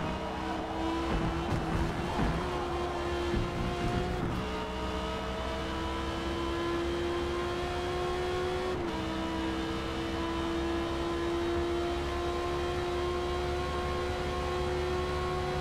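Race car engine in Forza Motorsport, racing at night at Spa in Belgium, accelerating hard down the long straight, a loud steady engine whine rising in pitch through the gears, with a brief shift near the middle.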